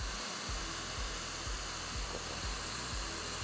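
A Dreame Hair Miracle hair dryer blows steadily and close, a loud continuous whooshing airflow with a faint repeating low pulse underneath and no talking.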